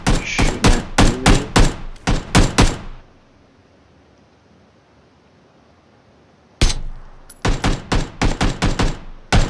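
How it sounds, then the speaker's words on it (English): Gunfire in the PUBG battle game: rapid bursts of loud, close automatic shots, then several seconds of near silence before another long string of rapid shots resumes. "They shooting at me."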